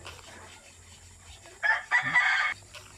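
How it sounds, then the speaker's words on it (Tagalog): A farm rooster crows once at moderate distance, a loud drawn-out call of about a second, with quiet outdoor background and faint low hum before and after. "Manok ni nang Rosemary"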